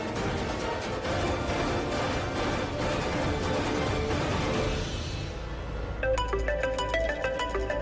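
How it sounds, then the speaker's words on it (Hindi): A phone ringtone plays a bright repeating melody near the end, after a stretch of dense background noise. "पूरब का फोन?"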